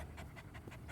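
A pit bull terrier pants in quick, soft, rhythmic breaths, about five short huffs in a second, close and faint.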